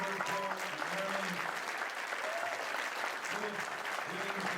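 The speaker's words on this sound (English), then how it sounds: "just keep clapping for everybody at the chamber, Joel, Marilyn," Steady applause from the audience at a school district candidate forum, dense continuous clapping throughout while someone speaks over it through a microphone.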